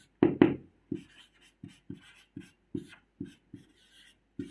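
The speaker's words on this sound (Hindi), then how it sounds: "आइए तो सबसे पहले लिखेंगे यहां पर हल" A pen writes a maths solution on paper, close and quiet, with short scratchy strokes in an uneven rhythm, about a dozen separate bursts and faint rubbing between them.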